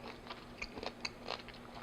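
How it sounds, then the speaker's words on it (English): Someone bites and chews hard, corn-like snack pieces, giving faint, irregular crunches and crackles close to the microphone, with no one speaking. "You can probably hear the crunching through my mic"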